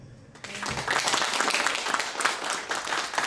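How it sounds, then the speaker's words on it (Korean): Audience applause at a Daegu Dong-gu development institute forum, starting after a brief quiet moment and swelling into steady, dense clapping from a seated crowd that carries on to the end. "박수 부탁드립니다."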